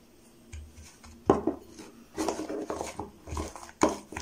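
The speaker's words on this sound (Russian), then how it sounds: "И все тщательно это перемешиваем до однородной массы." Flour and water being stirred into a fishing dough in a bowl, giving irregular scraping and clinking knocks of a utensil against the dish, close and moderately loud, with no talking.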